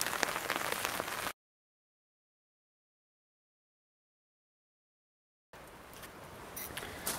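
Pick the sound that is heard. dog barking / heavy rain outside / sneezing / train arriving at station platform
heavy rain outside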